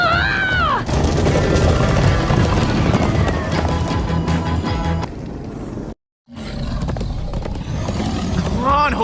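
Horses gallop in Minecraft: Story Mode, a rapid clip-clop of hooves under loud game music and roaring effects, with shouting voices over the top and a brief drop to silence partway.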